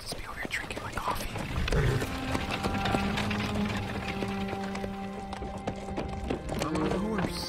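Hooves clip-clop at a gallop for a horse in the game Shiver 3: Moonlit Grove, a steady rhythmic run with snorts and game music beneath, while a voice talks over it.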